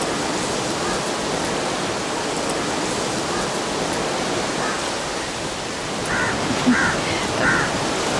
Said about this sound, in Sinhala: මේ හුළඟ එච්චර හොඳ නැහැ. ලෙඩ හුළඟක්නේ.